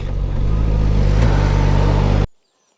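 A Suzuki GSX-S 1000 GT motorcycle engine roars hard and steady at high revs, loud and close, before cutting off abruptly into silence.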